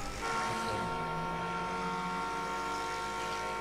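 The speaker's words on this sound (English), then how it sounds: "He is honking." A car horn in a video game sounds as a steady, sustained tone, holding for several seconds at a constant level.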